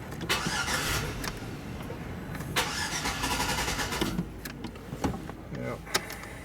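A Chevy SUV's engine cranks repeatedly on a jump starter without catching, with car noise close by and people talking over the cranking.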